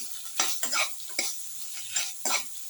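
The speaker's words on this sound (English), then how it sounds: "mix thoroughly." A garlic basil beef casserole mixture is stirred in a pan, with several soft scraping strokes in an uneven rhythm over a faint sizzle, close and fairly quiet.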